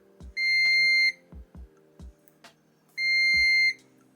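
A ZT5BQ clamp meter sounds its continuity test beep: two sustained high electronic tones, one near the start and one near the end, with soft clicks and taps from the probes in between.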